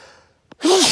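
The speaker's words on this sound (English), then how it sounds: "Uh-oh, I gotta sneeze." A single sudden human sneeze, loud and close, bursting out of near silence after a faint preceding inhale, spoken outdoors near a cabin in the woods.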